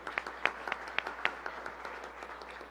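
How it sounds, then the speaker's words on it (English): Light applause from a small church congregation honoring the youth at a Sunday service, a few distinct claps over a soft patter, fairly quiet and fading toward the end. "I just want to give a round of applause for our youth"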